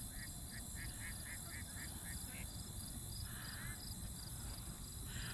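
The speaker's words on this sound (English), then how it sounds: "These ducks are so little" Small ducklings in late-summer wildlife surroundings give a run of soft, rapid peeping calls, then a brief quacky call, over steady outdoor background noise.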